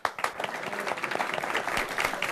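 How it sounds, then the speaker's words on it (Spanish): A theatre audience applauds an actor after a play, a thick, continuous wash of many hands clapping at close range, lively and sustained throughout. "Está recibiendo los aplausos"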